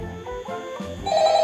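Telephone ringing in Five Nights at Freddy's 1 played on Nintendo Switch 2: a short run of tonal electronic rings stepping in pitch, growing brighter and louder near the end, with no speech.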